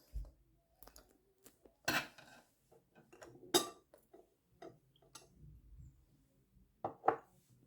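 A spoon clinks and scrapes against a bowl while ingredients are mixed, sparse light taps and a few sharper knocks, close but quiet, with no talking.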